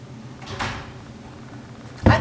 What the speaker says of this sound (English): I can hear people slamming doors.